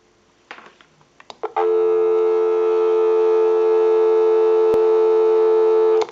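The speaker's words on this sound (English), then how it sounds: "We'll go ahead and give you some dial tone." A few faint clicks, then a steady, loud dial tone from a European PTT rotary desk telephone that holds unbroken for several seconds before cutting off.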